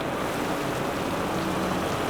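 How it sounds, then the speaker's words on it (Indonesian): Steady heavy rain at midnight, a dense, continuous hiss with no pauses, loud and close throughout, with no voices. "Tengah malam hujan-hujanan"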